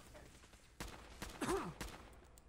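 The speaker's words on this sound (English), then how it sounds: "I'm just kind of blind firing right now." Gunfire in the video game Fallout 4, several sharp, separate shots spaced irregularly at a distance over a quiet background, with a brief vocal sound between them.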